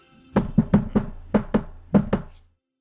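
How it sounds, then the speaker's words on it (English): Knuckles rap a table to stand in for knocking on a door during a Call of Cthulhu-style tabletop roleplaying session. About eight close, hollow knocks come in uneven clusters, clear and alone with no talking, then stop. "All right, I'm going to knock."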